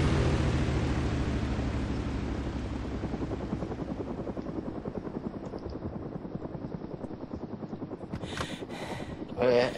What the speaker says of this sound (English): are you trying to start the plane?